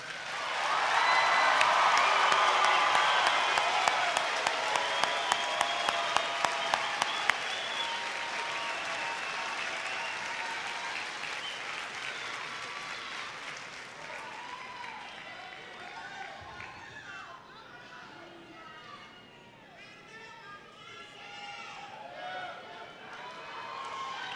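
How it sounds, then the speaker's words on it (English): A graduation ceremony audience applauds the class of 2025, a loud, dense wash of clapping with some cheering that holds steady and then gradually thins out. "Let's give them one more round of applause."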